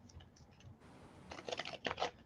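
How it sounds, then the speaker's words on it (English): A deck of tarot or oracle cards is shuffled by hand at close range, a quiet burst of riffling and papery clicks in a calm indoor setting. "Just gonna do a little shuffle."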